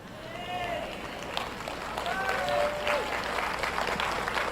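An audience at a French-language sermon applauding, a steady soft wash of clapping from a crowd, fairly distant and even throughout.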